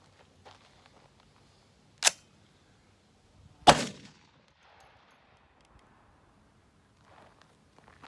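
A Remington Model 81 rifle is fired, with two sharp, loud reports about two seconds apart against an otherwise quiet outdoor background.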